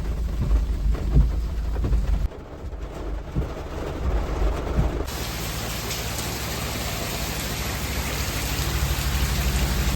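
Heavy rain pours steadily in a dense, loud hiss, with low rumbling underneath, continuing throughout without any speech.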